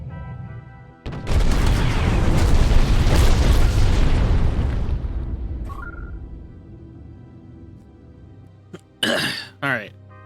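Torpedo explosions in the space-sailing game Treasure Planet: Battle at Procyon: a loud booming blast with a long rumbling tail that fades over several seconds, followed by a couple of sharp crackling bursts near the end.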